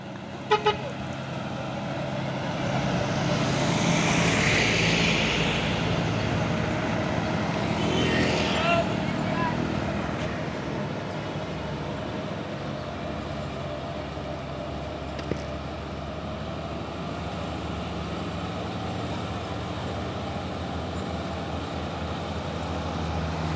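A loaded CPO tanker trailer truck reverses on an incline, its engine droning steadily close by while a horn toots. Voices talk over the engine noise throughout.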